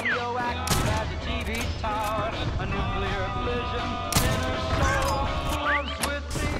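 Rapid heavy gunfire and explosive blasts from a ZRG 20mm sniper rifle in Call of Duty Warzone, dense repeated shots and crashes over a music and effects-filled game mix, with players talking over it.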